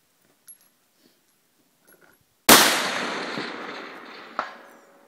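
A single long-distance rifle shot cracks out loud and sudden, its report rolling away over several seconds. A faint second echo or impact follows shortly after, with near silence before the shot.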